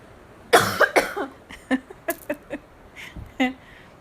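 A person coughs several times in short bursts, loud and close, with a few quieter rasping coughs trailing after.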